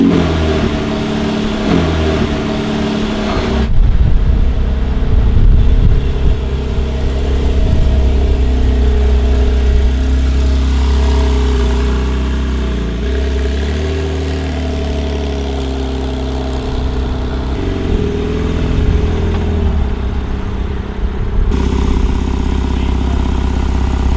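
A Porsche 911 Carrera T engine runs loud and close on the road, a steady throaty drone that swells as the car accelerates and settles between revs, heard alone without talk.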